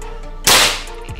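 A Predator 460cc full-CNC PCP air rifle fires a single sharp, loud shot, a sudden crack followed by a short decaying tail, with no other sound around it.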